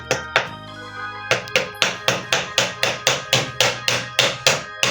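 A child pats a sand-filled bucket to pack a sandcastle, about a dozen sharp, evenly spaced taps with ringing decay, close and loud, with nobody speaking over them.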